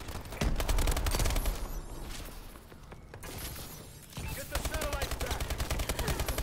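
Rapid automatic gunfire from a video game rattles in dense, crackling bursts. It pauses briefly midway, then resumes just as loud and fast.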